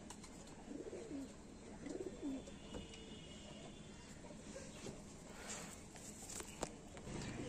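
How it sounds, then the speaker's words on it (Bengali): Pigeons cooing softly in a loft of large-bodied Malbai pigeons, a few low rounded coos rising over steady background noise with occasional faint rustles. "দেখুন বন্ধুরা, কত লং সাইজের পায়রা আছে।"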